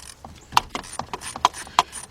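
A ratchet wrench loosens the bolt on a car battery's negative terminal, a series of close, sharp clicking ratchet strokes in an irregular rhythm.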